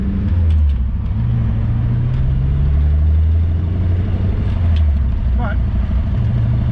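A 1988 Ford Festiva car engine drives along, a steady low rumble with shifting engine tones and faint rattles, heard from inside the cabin; a voice speaks briefly over it.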